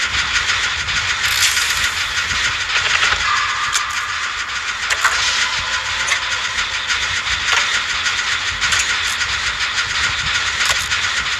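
Generator machinery whirs steadily in the video game Dead by Daylight, a continuous mechanical hum with occasional clanks and sharp metallic ticks layered on top, moderately loud throughout.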